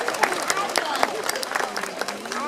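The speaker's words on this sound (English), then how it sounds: "give her a round of applause" Spectators at an aquarium dolphin show clap in a moderate, uneven burst of applause, with crowd murmur and a voice mixed in.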